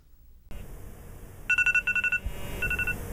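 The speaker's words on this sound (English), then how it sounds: "turn off your alarm." A phone alarm rings in repeated electronic trills over steady background noise, with short bursts and brief gaps, fairly close.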